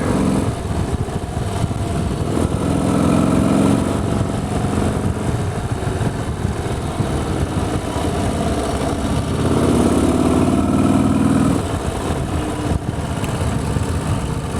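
A Harley-Davidson motorcycle engine idles nearby with a steady low rumble, swelling slightly in a couple of spots, with no speech over it.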